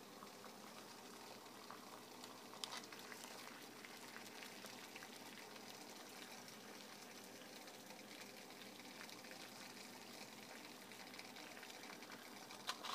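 Water at a rolling boil in a Fosters pot with a bear claw paint job, a steady faint bubbling and hissing that holds evenly throughout with no talking.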